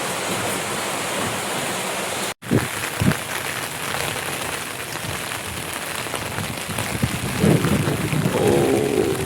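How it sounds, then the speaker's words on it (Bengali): Rain falling outdoors during the monsoon in the Sundarbans, a steady dense hiss of drops on surfaces, with a brief cut and a few louder thuds partway through. "ও এদিকে বৃষ্টি হচ্ছে"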